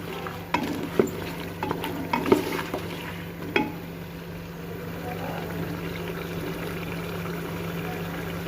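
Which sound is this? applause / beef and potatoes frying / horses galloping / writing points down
beef and potatoes frying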